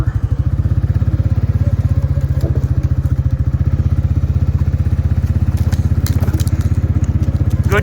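A Can-Am Outlander ATV in winter trail conditions rumbles over a downed dead tree, its engine throbbing loudly and steadily up close, with a few thumps and crackles as it climbs over.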